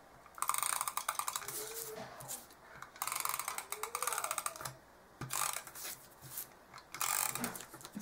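An adhesive tape runner being rolled onto a mini album gives rapid, faint, clicky ratcheting bursts, several short runs separated by brief pauses, heard close up and quiet.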